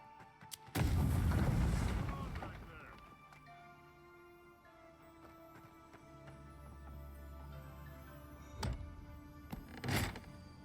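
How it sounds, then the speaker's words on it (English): A grenade blowing up a wall in the video game Avowed: one heavy, booming explosion with a long rumbling decay, followed by quieter game ambience and a couple of later thuds. "We got a wall we can blow up here. So, how about a grenade?"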